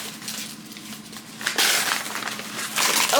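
Plastic or paper wrapping being torn and crinkled off a book, starting with quiet rustles and swelling into louder crackling bursts of wrapper handling, close by.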